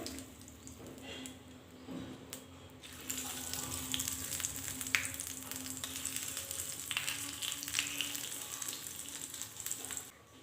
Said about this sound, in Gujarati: હવે આ વઘાર લઈશું